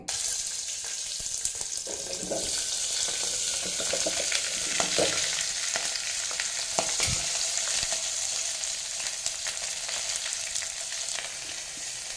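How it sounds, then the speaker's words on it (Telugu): Green chillies and ivy gourd pieces fry steadily in hot oil over a low flame, a continuous close sizzle with occasional clinks of a utensil against the pan, no talking. "పచ్చిమిర్చి దొండకాయ ముక్కలు అలా కట్ చేసుకొని ఆ నూనెలో వేసి సన్నటి సెగ మీద మగ్గనివ్వాలి."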